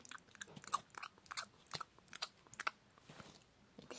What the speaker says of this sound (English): And then after that, they ate some food.